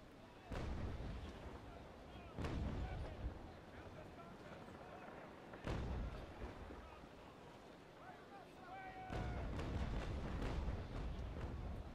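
Ship bow guns firing in the naval battle game Naval Action, several heavy booming cannon shots spaced seconds apart over wind and sea noise, with someone talking in between.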